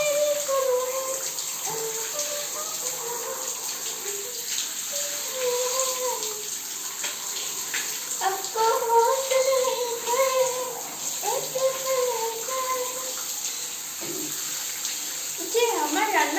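Water pours steadily from a tap during bathing, running continuously under a voice that sings or talks along the whole time.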